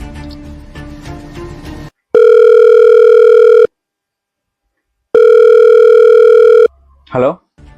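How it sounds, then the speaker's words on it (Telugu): A telephone call tone heard through the handset: two long, loud, steady electronic tones separated by silence, after a stretch of busy mixed sound and followed by a brief voice. "సరే ఫోన్ చేసాను."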